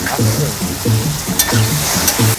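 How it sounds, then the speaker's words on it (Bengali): Onion, tomato and green chilli fry in a pan with a steady, fairly close sizzle, while a repeating low musical tone pattern plays underneath throughout. "পিঁয়াজ টমাটাম কাঁচা লঙ্কা সবজিগুলো ঠিক এরকম করে ভেজে নিতে হবে"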